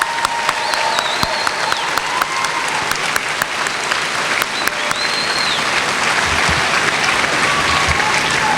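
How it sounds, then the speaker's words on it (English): Sustained applause from a high school graduation crowd fills the room, dense clapping throughout with a few faint whistles rising above it. "Let's give them a round of applause."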